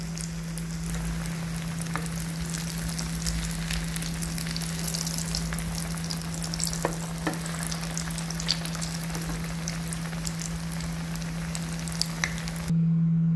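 Banana flower chops fry in shallow oil, a loud, continuous close sizzle with scattered crackles and pops throughout, and a steady hum running beneath.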